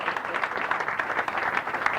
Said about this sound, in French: est-ce que vous pouvez applaudir pour le porteur de sac là?